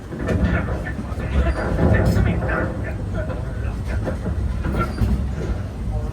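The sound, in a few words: train running on the track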